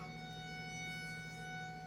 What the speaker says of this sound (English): Tornado sirens continuing to go off.